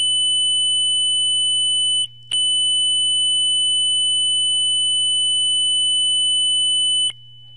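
A steady pure electronic tone from the top trace signal of a cassette test recording, held for about two seconds. It drops out briefly with a click, then resumes for five more seconds before cutting off with another click over a low hum.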